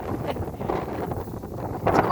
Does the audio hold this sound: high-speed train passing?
no